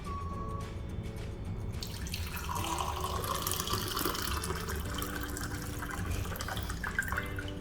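Water pours from a drink jug from a seven-piece jug and tumbler set, a soft, steady splashing stream running for several seconds at low level with no talk over it.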